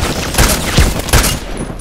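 Sniper rifle fire in the shooter game Contract Wars on the map Evac, with three sharp, loud shots spaced roughly evenly over a couple of seconds and a dense battle ambience between them.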